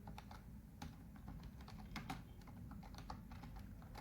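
Keys clatter on a computer keyboard in quick irregular bursts of taps, close and quite faint, as text is typed during a Scratch game-making session.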